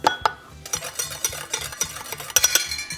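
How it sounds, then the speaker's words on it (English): A spoon stirs baking batter made with baking powder in a bowl, scraping and clinking against the sides in a busy, continuous rhythm, close and moderately loud with no talking. "now we're just gonna mix this in here. She just stirs it with a spoon"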